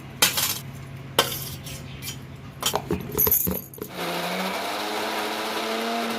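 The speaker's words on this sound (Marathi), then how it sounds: "आता या सर्व गोष्टी आपल्याला व्यवस्थित मिक्सरमध्ये वाटून घ्यायच्या आहेत" A kitchen mixer grinder starts with short clattering bursts and rattles of the jar, then settles into a steady whirring grind as it blends roasted onion, coconut and peanuts into a masala paste.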